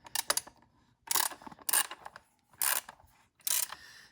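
Wrench working loose 8mm fasteners on a 2023 KTM 390 Adventure, a few separate bursts of ratcheting, metallic clicking about a second apart, close and fairly quiet with brief pauses between.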